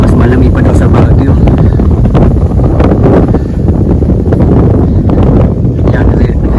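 Cold wind gusting across a microphone on the Mt. Pinatubo crater trail, a loud continuous buffeting rumble that lasts the whole stretch with no clear voices.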